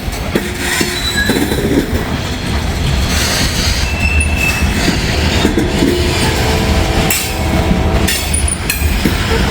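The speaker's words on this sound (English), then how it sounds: "I do hear the intermodal." An intermodal freight train rolls past at close range in Hamilton, a steady, loud roar of wheels on rail with squealing and clattering cars throughout.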